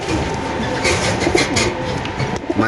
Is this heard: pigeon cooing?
yes